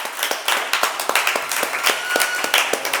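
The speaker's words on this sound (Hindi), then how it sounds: "बिल्कुल सही उत्तर, जोरदार तालियां, बहुत बढ़िया।" Energetic applause from a TV quiz show studio audience after a correct answer, with rapid, overlapping claps that build into a steady burst lasting a few seconds, close and fairly loud.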